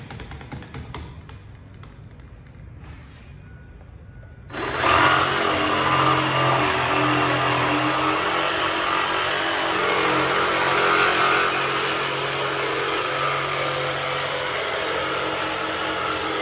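After a few seconds of quiet tapping and handling, a jigsaw starts and cuts steadily through a large piece of wood along a circular line, a sustained close buzzing rasp with no talking.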